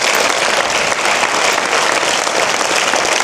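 Audience at a talk program clapping together, a dense, even burst of applause close and loud from start to finish.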